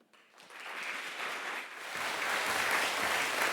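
Audience applause greets a performer at a classical vocal concert, a dense wash of clapping that starts light and swells fuller and louder, continuing steadily with no voices over it.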